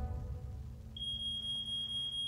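A smoke alarm emits a thin, piercing high-pitched beep that starts partway through and holds steadily over a low background hum.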